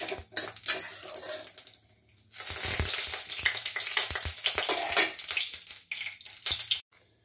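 Dried red chillies and nigella seeds hit hot oil in a pan, bursting into a loud steady sizzle after a few handling clatters, with spatula stirring and crackling before the sizzle cuts off abruptly.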